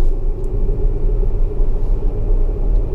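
Steady low engine rumble and road noise inside a Tesla car on Autopilot accelerating hard along a curving local road, a continuous loud drone with no talk.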